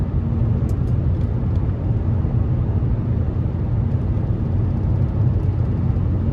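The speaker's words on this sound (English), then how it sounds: "Just a tad bit of wind noise, but it is windy out right now." Wind noise inside a moving 2015 Nissan Altima 3.5 SL on a windy day: a steady, loud, low cabin roar and rush that stays even throughout, with no talking.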